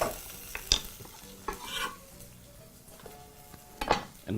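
Garlic, ginger and tomato paste are stirred in a pot for a Kenyan vegetable pilau, giving soft scraping strokes and a few clinks of a utensil against the pot over a gentle sizzle, close and alone.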